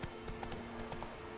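Roach the horse galloping in The Witcher 3, quick rhythmic hoofbeats thudding at a steady pace, fairly faint and close, with no voices.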